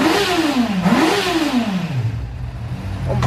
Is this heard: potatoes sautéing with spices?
no